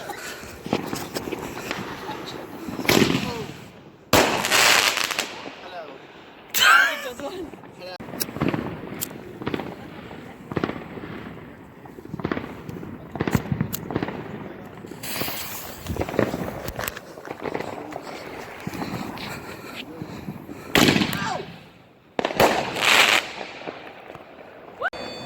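Bonfire Night fireworks burst in sharp, loud bangs and crackles at irregular intervals outdoors, some close and some further off, with people talking between the explosions and footsteps moving about.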